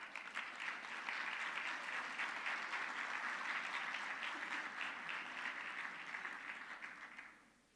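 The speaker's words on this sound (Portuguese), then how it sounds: "a quien le damos un gran aplauso" A forum audience on agriculture and sustainability applauds the panel moderator with a long, even round of clapping from a sizeable crowd, held steady for several seconds before tapering off at the end.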